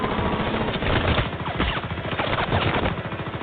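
Sustained rapid gunfire from an animated James Bond versus John Wick Death Battle fight, loud and continuous bursts with no talk over them.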